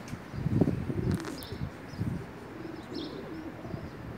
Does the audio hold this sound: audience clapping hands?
no